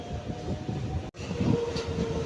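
A MEMU passenger train on the Tirupati–Nanded route pulls into a station, giving a loud, continuous rolling rumble with a faint steady tone riding above it; no voices are heard.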